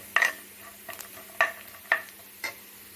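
Something being sautéed in ghee or oil in a pan for Kerala-style kalathappam made from raw rice, heard as a soft steady sizzle with four or five sharp spatula scrapes and stirs at regular intervals, close by and without talk.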